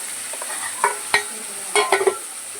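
Mutton bone curry masala with onion, tomato and spices sizzles in a pan, steady frying hiss punctuated by several sharp spoon scrapes and stirring clinks, close and clear with no talk.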